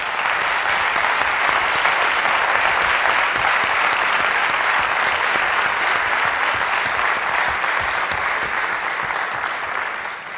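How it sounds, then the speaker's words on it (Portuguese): Sustained, loud audience applause at a Socialist Youth political convention, a thick continuous roar of many hands clapping that holds steady for about ten seconds. "E, portanto, merece o nosso forte aplauso."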